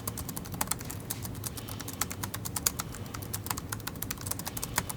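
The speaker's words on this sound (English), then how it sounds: "It's not a very loud, clacky mechanical keyboard. It's just a nice, satisfying one that you can listen to here." Steady typing on the optomechanical keyboard of a WootBook Ultra III 3070 laptop, a fast run of soft, muted key clicks over a low background hum, fairly close and with no voices.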